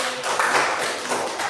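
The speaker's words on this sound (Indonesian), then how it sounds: "Tepuk tangan untuk dia." A brief burst of audience applause, a quick patter of many hands clapping at moderate distance, fading after about a second and a half.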